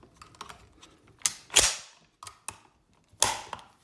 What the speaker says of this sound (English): It locks to the rear because there's no rounds in it.